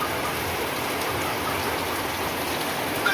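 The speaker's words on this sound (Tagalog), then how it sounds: "Ulan yung panahon mga kaibigan." Steady rain falls on a cold January day, a dense continuous hiss of drops on surfaces that stays even and unbroken throughout with no voices.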